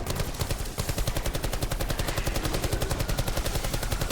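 Rapid automatic gunfire in Black Ops 4 Zombies hammers out an even, fast stream of loud close shots that continues unbroken for several seconds without talk.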